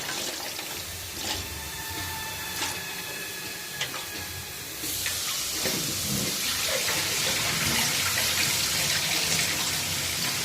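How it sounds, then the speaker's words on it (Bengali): Rice being washed under a running tap gives a continuous splashing rush of water, with a few light clinks early on before the flow grows louder and fuller about halfway through. "এখানে যে ভাতের জন্য চালটা ধুয়ে নিচ্ছি"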